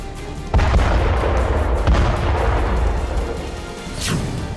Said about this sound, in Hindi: थर्मोबैरिक रॉकेट लॉन्चर एक साथ 24 से 30 मिसाइल दाग सकता है